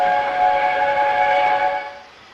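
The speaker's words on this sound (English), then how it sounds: "I've never heard that whistle before." A steam engine on Sodor sounds a single sustained, tuneful whistle, loud and steady before it quickly fades away.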